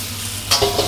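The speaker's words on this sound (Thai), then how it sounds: "มีฉ่าให้เห็ดหอมแล้วก็กุ้งสดเขาโดนกระทะกับน้ำมันร้อนๆนะครับ" Shiitake mushrooms and fresh shrimp hit hot oil in a wok over high heat, giving a brief burst of close sizzling and stirring hiss.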